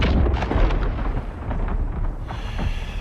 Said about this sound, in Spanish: Heimdall escucha antes el trueno a lo lejos